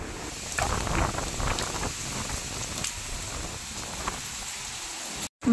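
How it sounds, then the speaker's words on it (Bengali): Heavy rain and a strong wind storm outdoors near a temple after a puja: a dense, steady rush of rain with gusty wind noise, loud and continuous before a brief dropout at the end. "আর এদিকে প্রচণ্ড ঝড়ও শুরু হয়ে গেছে"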